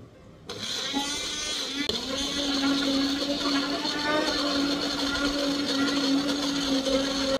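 A kitchen blender churning large fruit pieces for sorbet, a loud steady motor whir that kicks in abruptly and holds with a grinding, rattling edge.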